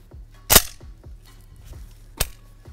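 Two loud, sharp gunshots fired at a wall to test how well different cartridges penetrate, the second about a second and a half after the first, each cracking out clearly over a quiet outdoor background.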